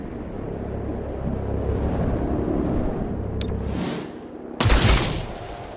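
Gunfire in the squad combat game XCOM Chimera Squad, a sustained burst of rapid shots with a whooshing sweep and then a sharp loud blast near the end, no talking.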